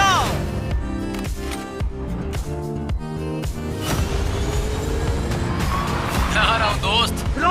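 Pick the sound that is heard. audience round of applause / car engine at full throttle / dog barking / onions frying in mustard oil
car engine at full throttle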